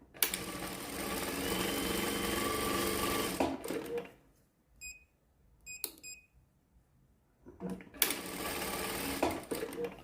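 A Prosew PS-1987A sewing machine runs a stitch pattern of short and long stitches in a loud, steady whir that stops for a few seconds of near quiet with small clicks and beeps, then starts stitching again.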